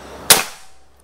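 A single sharp, loud crack of a PCP air rifle shot (Predator Bocap Black Army Phantom), close up, with a short fading tail and quiet before and after.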